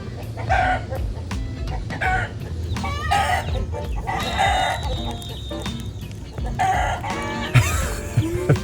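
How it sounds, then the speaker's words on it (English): A rooster crows loudly and repeatedly nearby in San Pancho, Mexico, with clucking between calls and some faint background noise. "the loud and often off-key rooster that apparently lived there as well"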